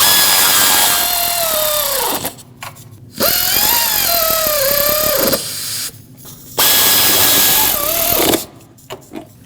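Power tool snugging nuts and bolts on a 2006-2015 Lexus IS250 water pump: three loud whirring bursts of a few seconds each, the pitch rising as the fastener tightens, separated by short pauses with light clatter.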